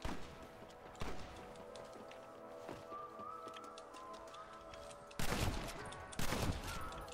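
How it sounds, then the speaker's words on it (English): Gunfire in the Red Dead Redemption video game: two loud, sharp shots near the end over a quiet ambient scene with faint bird coos and a few softer distant pops. "Oh yeah, getting them headshots now"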